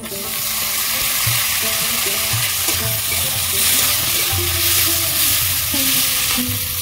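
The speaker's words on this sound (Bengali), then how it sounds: "পেঁয়াজ আমি লাল লাল করে ভেজে নিয়েছি। এবার টমেটো কুচি দিয়ে দেবো" Chopped tomatoes hit onions already fried deep red in a pan for Bengali fish kalia, giving a loud, continuous sizzle with scraping stirs throughout and no voices.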